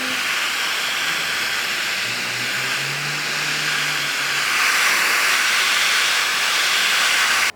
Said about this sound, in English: you can do all sorts of things with this heat gun